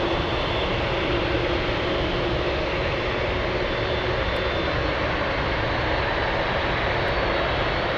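At Anchorage airport, a fully loaded FedEx MD-11 cargo jet takes off with a loud, unbroken engine roar that holds steady throughout, heard alone without talk.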